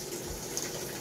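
A Panasonic washing machine under repair fills with water, a steady close rushing of water into the tub running evenly for a second with no voices.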